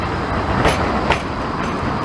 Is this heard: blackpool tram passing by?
yes